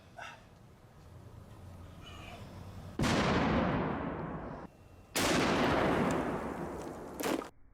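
Two sharp, loud .50 caliber rifle blasts go off a couple of seconds apart, each ringing out and decaying, with a quick crack near the end as the rifle explodes.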